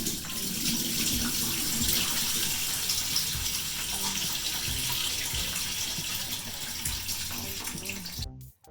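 Tap water runs steadily in a kitchen sink to refill jars of Iraqi pickled cauliflower and cabbage, a continuous close gushing flow that cuts off abruptly at the end.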